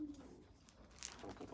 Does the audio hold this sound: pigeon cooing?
yes